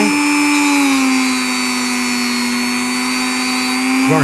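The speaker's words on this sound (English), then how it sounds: "while I've got the Dremel in my hand, I'll do the brushes" A Dremel rotary tool runs steadily, whining at a constant pitch for about four seconds with a brief change near the end, while cleaning the motor brushes of a Hornby model locomotive power bogie. Close and fairly loud, no talking.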